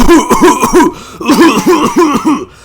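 A man mimics a cough with a voice: about eight loud, close, rhythmic hacking coughs in two bursts separated by a short pause.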